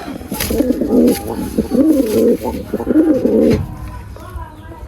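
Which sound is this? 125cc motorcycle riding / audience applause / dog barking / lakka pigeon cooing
lakka pigeon cooing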